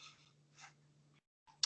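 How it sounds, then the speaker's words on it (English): Faint scattered clicks of someone typing on a keyboard during a quiet online class, a few soft bursts with a sharper tap near the end. "Looks like someone's typing."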